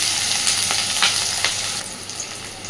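Onion and green chilli frying in a pan, a loud, close, continuous hiss of sizzling oil with a few soft stirring scrapes, no one speaking.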